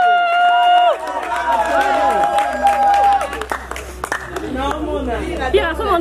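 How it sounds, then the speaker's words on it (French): Guests at a wedding ceremony in Kinshasa break into applause and chatter after the signing, while sustained tones and voices continue over the clapping, the scene busy and loud throughout. "On applaudit."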